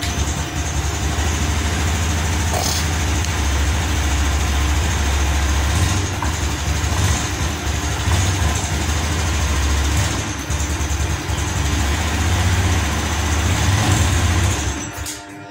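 Vehicle engine running steadily just after starting, a loud continuous low rumble with constant mechanical noise throughout, ending abruptly.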